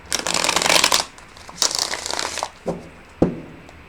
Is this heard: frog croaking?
no